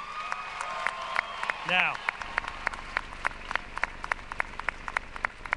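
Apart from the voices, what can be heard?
audience applauding at commencement ceremony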